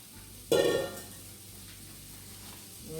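Sausage and onions hit a hot pan and burst into a brief loud sizzle that quickly settles into a quieter, steady frying hiss, heard alone with no talk.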